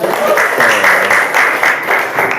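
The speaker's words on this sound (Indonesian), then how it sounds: "Oke, tepuk tangan juga dong buat semuanya ya." A small group claps steadily for a couple of seconds, a dense patter of hands filling a room.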